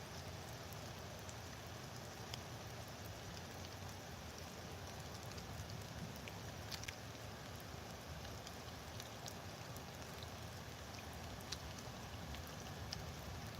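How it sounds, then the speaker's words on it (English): Heavy rain pours steadily and loudly throughout, a dense continuous hiss with scattered sharper drops striking a surface. "I don't think I've seen it rain that hard in years."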